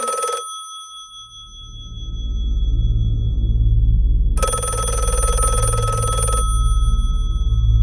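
A telephone in Don't Hug Me I'm Scared 5 rings in two electronic bursts, a short one at the start and a longer one later, over a swelling low music bed.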